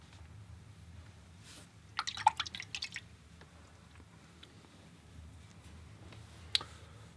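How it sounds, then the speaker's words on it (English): A watercolor paintbrush swished and tapped in a water jar, a brief cluster of small drips and splashes followed by a couple of isolated ticks, close but faint against a quiet room. "Rinse off brush, check off some of the water."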